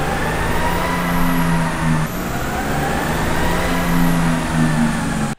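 A diesel truck running on Shell regular diesel revs hard on a dyno, giving a loud, sustained engine roar that holds high for about five seconds with a brief dip and climb midway, then cuts off abruptly.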